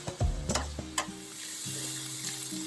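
Carrots and cabbage frying in a pan for Filipino pancit, with a steady close sizzle, a few brief clattering stirs and knocks near the start, then a softer continuous fry.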